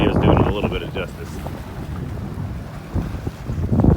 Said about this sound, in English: Again, I'm sorry for the wind.